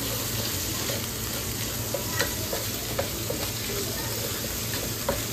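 Fried rice with butter and sesame oil sizzles steadily in a pan while a utensil stirs it, scraping and tapping at irregular moments over the constant frying hiss.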